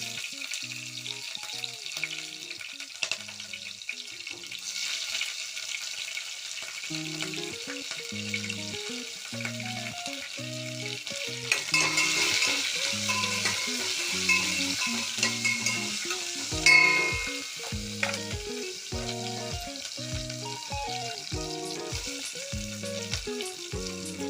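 Green chillies and a bay leaf fry in oil for egg curry, a constant close sizzle with occasional stirring scrapes, heard over soft rhythmic background music throughout; no one talks.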